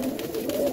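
Lal Ambarsari pigeons in a loft coo softly and continuously, a low murmuring burble close by with no talk over it.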